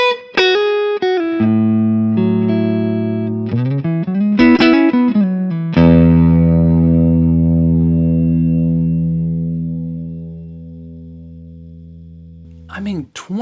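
A Fender American Vintage II 1961 reissue electric guitar plays a few notes and chords ending in a long sustained ringing chord that decays slowly, with buzzing overtones and a brief noise at the end.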